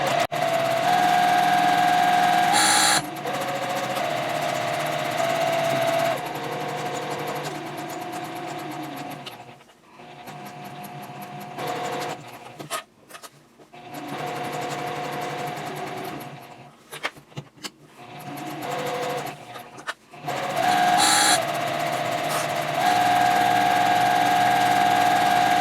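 Sewing machine stitching down the side and around the curves of an elf Christmas stocking, a steady close motor hum with rapid needle clatter, pausing and restarting several times as the fabric is pivoted.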